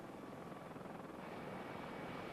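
An Army Red Cross helicopter flies near an airport on earthquake relief duty, its rotor a faint, steady whirring drone with no voices.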